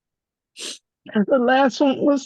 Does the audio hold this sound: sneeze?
yes